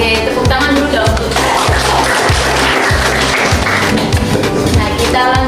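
A classroom claps together during an art lesson, a dense, continuous patter of hands under music with a regular thumping beat, no voices standing out.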